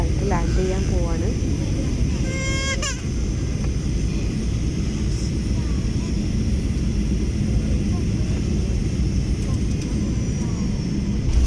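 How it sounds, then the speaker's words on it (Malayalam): A passenger airplane about to land at Kannur airport, heard from inside the cabin as a steady loud engine roar, with brief chimes early on. "ഫ്ലൈറ്റ് ലാൻഡ് ചെയ്യാൻ പോവാണ്."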